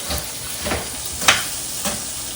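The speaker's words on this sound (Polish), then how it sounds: "i podsmażamy na złoty kolor. Tak smażą jak słychać" Pork ribs fry in a pan until golden, giving a steady close sizzle with a few soft scraping stirs rising briefly above the continuous hiss.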